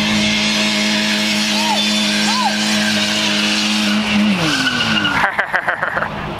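Tires squeal continuously in a long burnout at a car meet as an engine roars and revs, loud and close, ending in a rough sputter.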